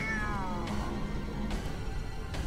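A cat meows in the horror video game Soul at Stake, three distinct drawn-out calls spaced about a second apart, clear and close against a low game ambience with no talking.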